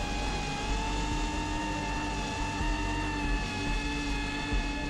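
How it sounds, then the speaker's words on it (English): A 6S 3.5-inch CineLog30 v3 FPV drone flies with its motors whining in a steady, layered high-pitched drone on a hot day, its balance shifted forward, heard continuously and fairly close. "the balance is slightly shifted forward, which is immediately noticeable from the sound of the motors"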